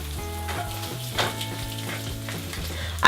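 An egg cooks over hard on its second side in a pan, sizzling steadily up close with crackling spurts and a sharp burst at the end, over a steady tonal hum.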